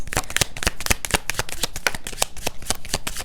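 A deck of Love Oracle cards being shuffled by hand, a quick steady run of crisp riffling flicks and taps, close and clear with no talking.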